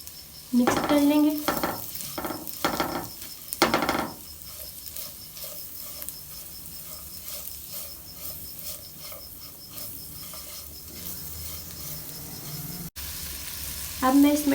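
Vegetables with carrot, salt, black pepper, chicken powder and garlic powder stirred in a pan for manchow soup: several scraping stirs over a steady sizzle, then continuous frying hiss, with a brief stir returning at the end.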